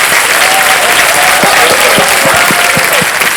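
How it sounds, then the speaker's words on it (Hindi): Studio audience applause on the Kaun Banega Crorepati 14 quiz show set, a loud, dense and unbroken wall of clapping from a large crowd, with faint cheers beneath and music tones woven in. "जोरदार तालियां बज जाए इनके लिए"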